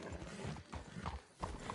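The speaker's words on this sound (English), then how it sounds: "Easy! Get a hold of that horse" Horse hooves clip-clopping in uneven rhythm on a path in Red Dead Redemption 2, close and fairly loud, with a brief whinny and snorts mixed in.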